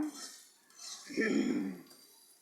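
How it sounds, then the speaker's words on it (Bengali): A spoon scrapes and clinks against a cooking pot while onions are stirred over a wood-fired clay stove. The sound is quiet, with one short louder scraping stir near the middle and soft talk around it. "আবার একটু আমি লাড়া দিলাম"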